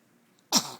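One quick sneeze sounds up close after a moment of near silence, a brief sharp burst that trails off quickly.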